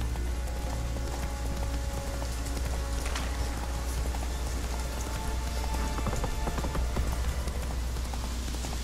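Roach, Geralt's horse in The Witcher 3, gallops in a steady clip-clop rhythm over a constant bed of rain, alone and fairly loud throughout.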